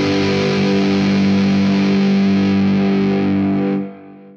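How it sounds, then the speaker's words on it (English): An electric guitar played with heavy distortion rings out as one loud sustained chord, then is cut off abruptly near the end, leaving a short fading tail. "Oh, that is a rocking sound. That means it can only be one thing, an electric guitar."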